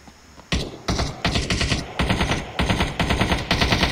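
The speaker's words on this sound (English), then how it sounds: "Gunfire to mask my, my movements." Rapid bursts of gunfire in the online battle royale game Ring of Elysium, loud and close, firing in repeated volleys with brief gaps, with no talking over it.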